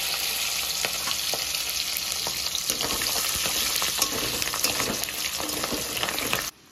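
Chopped ginger and whole garlic cloves frying in oil with whole spices for a gota masala chicken, a dense, continuous sizzle with stirring clinks, close and steady, cutting off abruptly at the end.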